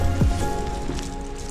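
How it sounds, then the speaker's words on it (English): Heavy rain falling outside, a steady dense patter of drops on surfaces, loud and continuous with a low rumbling undertone throughout. "it is raining heavily outside"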